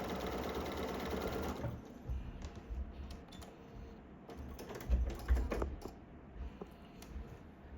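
A sewing machine stitching fabric pieces together whirs in a close, steady burst for under two seconds, followed by quieter clicks and handling noises.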